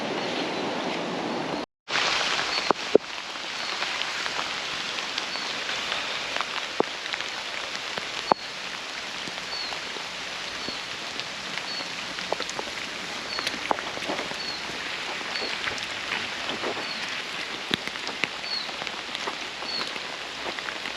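Steady rain patters on a surface nearby, a dense continuous hiss with scattered sharper drops, going on without pause.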